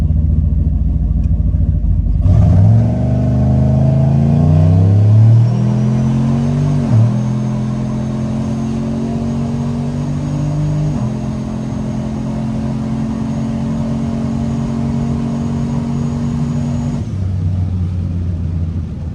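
A tuned GMC truck with an 88mm turbo revs hard and close, the engine note climbing in steps and then holding a loud, steady drone before dropping back to idle.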